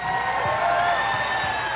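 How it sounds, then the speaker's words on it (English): Crowd applause for the Mr. Olympia 2017 bodybuilding athletes in a large arena, dense continuous clapping filling the hall with a sustained ringing tone over it. "Please give them a round of applause, please."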